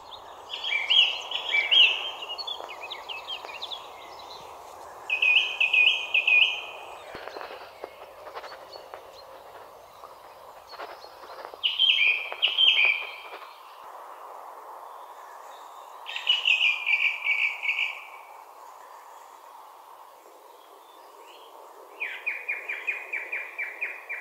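Thrushes singing together in a natural clearing at about 1200 metres near Saint-Martin-du-Riage, with repeated bursts of bright phrases every few seconds over a steady low hum.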